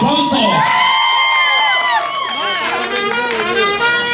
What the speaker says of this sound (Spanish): ¡regálame el aplauso!